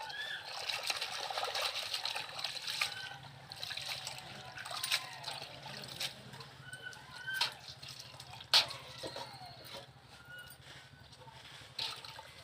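Leafy greens (chenchali kura) being rinsed in a bowl of water to wash out sand, with soft trickling, dripping and light splashing sounds, moderately near, and a rooster faintly in the background.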